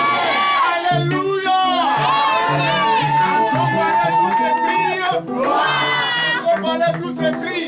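A church congregation at a seminar shouts and cheers loudly and continuously, voices rising in waves of exultant cries close by.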